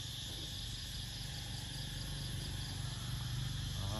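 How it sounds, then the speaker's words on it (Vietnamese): Cicadas chirp in the morning near a tomb, a dense continuous high buzzing drone that stays steady and fairly faint throughout, alone with no voices. "chỉ nghe tiếng ve kêu"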